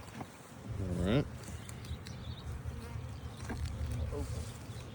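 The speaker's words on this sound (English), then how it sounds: "The guard bees are kind of telling me what they think about the happenings here" Guard honey bees buzzing around an opened hive during an early-season inspection, a steady close insect hum with some louder passes, and a person speaking briefly.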